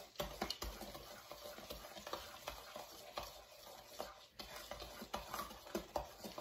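Ingredients for baking are stirred and mixed in a bowl, a busy run of scraping and soft clicking strokes at close range with no talking.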